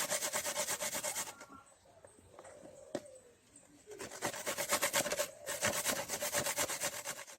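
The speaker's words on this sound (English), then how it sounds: "the grater is so sharp" Food rubbed against a very sharp hand grater outdoors while preparing a Jamaican-style meal, a rapid run of dense rasping strokes that pauses briefly in the middle and then resumes, loud and close, with no talking.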